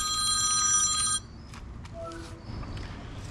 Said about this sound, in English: the phone's gonna ring, of course.